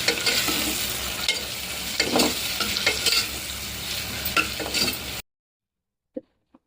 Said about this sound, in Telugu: ఒకసారి తిప్పుకోండి.